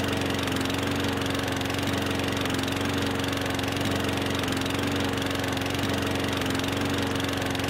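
A push lawn mower's small engine runs in Farming Simulator 15, holding a constant, close buzzing drone with a faint knocking texture and no speech over it.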